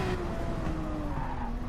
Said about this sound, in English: once again, locks the brakes up, gets really loose